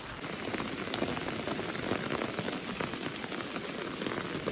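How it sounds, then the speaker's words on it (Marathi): Steady rain falls in a Konkan village after pouring since morning, a dense, continuous patter of drops on surfaces, even and fairly close, with no talk. "सकाळपासून पाऊस पडतो तो अजून थांबला नाही"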